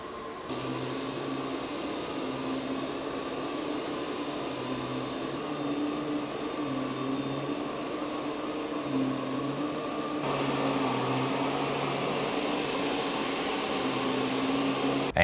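Ecovacs Deebot T20 Omni robot vacuum running through its power modes: a steady whirring motor and airflow roar with a low pulsing hum, stepping louder at each mode change, close and alone.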